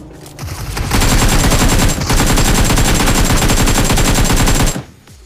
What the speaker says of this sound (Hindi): इतनी देर में सामने से फायर रहती है, ये वाले बंदे का फाइट देखना